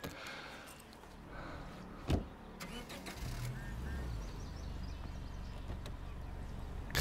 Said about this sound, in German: Einfach so ein fahrendes Auto.